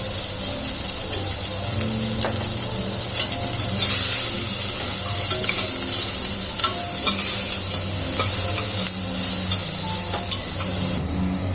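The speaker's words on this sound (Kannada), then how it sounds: "ಈಗ ಸ್ವಲ್ಪ ಉಪ್ಪು ಹಾಕೋತಾ ಇದ್ದೀನಿ, ಈರುಳ್ಳಿ ಬೇಗ ಫ್ರೈ ಆಗುತ್ತೆ ಅಂತ." Onions sizzling with salt in a hot pan for a mushroom biryani, a steady bright frying hiss with occasional stirring scrapes and clinks, close and continuous.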